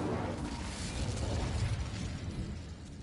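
A fire spell cast in Hogwarts Legacy on PS4 gives a steady, loud whooshing roar with dense crackling bursts and a low rumble, sustained for about three seconds.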